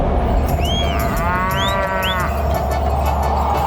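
Water buffalo bellowing in a comedic Hindi folk tale, loud drawn-out moos repeated two or three times over a low steady background hum, close and clear.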